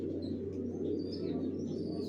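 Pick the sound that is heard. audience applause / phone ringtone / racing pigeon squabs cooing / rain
racing pigeon squabs cooing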